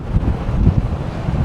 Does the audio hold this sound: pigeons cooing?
no